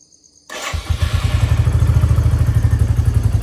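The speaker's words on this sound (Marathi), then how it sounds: "गाडीला पहिला कोल्ड स्टार्ट देऊया कारण की सकाळी आपण इंजिन स्टार्ट करतो आहे" A motorcycle cold-started on a morning before a trek: brief quiet, then the engine catches with a clatter and settles into a loud, close, rhythmic idle thumping evenly, no voices.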